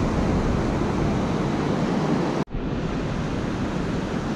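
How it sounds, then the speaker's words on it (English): Surf rolls and breaks steadily on Muriwai beach, a loud continuous wash of waves on the open shore during surf-casting, with a brief drop in the roar partway through. "I'm just hoping these waves don't come up over my gummies."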